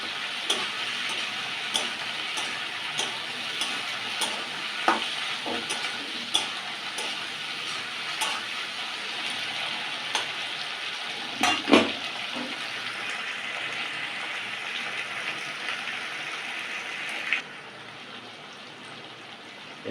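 Spring onions and capsicum frying in a pan for a West Bengal chili fish curry, a soft continuous sizzle broken by regular light ticks of a spatula stirring, one louder scrape midway, the hiss easing toward the end.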